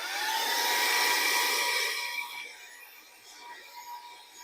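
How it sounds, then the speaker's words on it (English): A cordless high-power car vacuum runs with a blower attachment fitted in place of the vacuum nozzle, giving a steady loud airy whoosh with a faint whine that eases and softens partway through. "I'm going to put one of these blowers on here"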